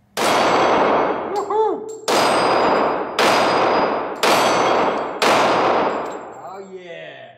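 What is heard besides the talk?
Glock 23 Gen 3 .40 S&W pistol gunshots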